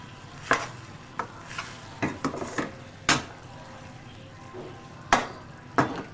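A spoon scrapes and knocks in a pan in irregular strokes while fennel, nigella and oregano fry for a macaroni dish, with a soft sizzle beneath the clatter.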